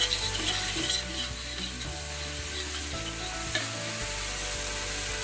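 Tomatoes with chili powder cooking down in a pan for mutton dum biryani give a steady, close sizzle with stirring, a constant frying hiss with no voices.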